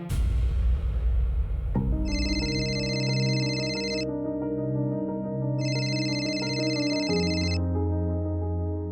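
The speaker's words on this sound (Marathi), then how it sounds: "नवसाजीला फोन करतो." An outgoing phone call rings twice, each repeating electronic ring tone lasting about two seconds with a pause between, heard clearly over soft background music in a Marathi TV drama scene.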